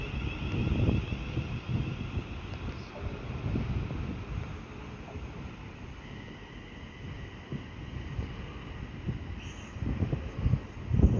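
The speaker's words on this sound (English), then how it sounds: "passing through now is another Pendolino going from London to Birmingham" A Pendolino express train on the West Coast Main Line passes through Wolverton station, heard as a steady rumble with rising and falling wheel noise, a brief squeal near the end, and wind buffeting the microphone.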